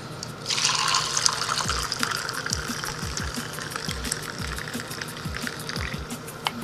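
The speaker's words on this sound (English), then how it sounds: "I'm going to strain this tea through the strainer" Corn silk tea strained through a strainer into a glass of chipped ice, giving a steady close-up trickle and splash of liquid with small bright drips and clinks, no voices.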